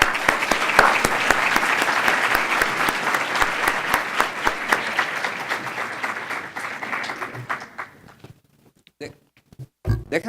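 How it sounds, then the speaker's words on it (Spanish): A conference audience at an international tourism congress bursts into loud, dense applause that holds steady, then thins into scattered claps and stops, with a few final claps at the end. "Un aplauso para él."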